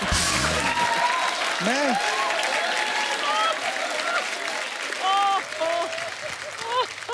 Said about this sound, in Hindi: तालियां बनती है इस बात के लिए